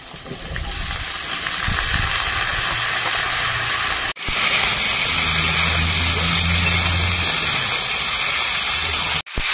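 Kohlrabi and potatoes fry in a pan with a loud, continuous hissing sizzle close up, broken by two abrupt momentary cuts.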